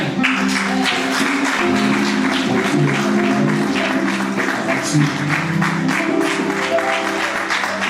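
A church congregation applauds and cheers throughout, a loud, dense wash of clapping with raised voices and tonal sound mixed in.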